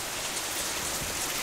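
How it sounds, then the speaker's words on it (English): Steady rain hisses down in a dense, even wash, close and continuous with no voices. "now it's raining"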